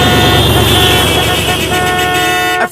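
Car horns blare loudly and continuously in a dense, sustained honk that holds for a few seconds before cutting off abruptly.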